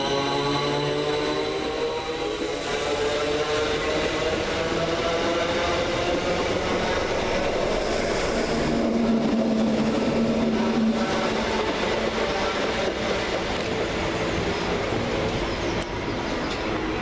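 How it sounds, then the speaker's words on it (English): An electric Class 345 train pulls into a suburban station on the Liverpool Street line, a steady loud rumble and rising whine that swells mid-way and holds without talk. "And here comes our train"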